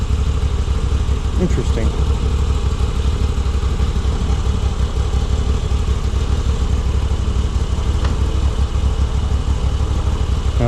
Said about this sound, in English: I'm trying to take it into first gear, and it's not letting me.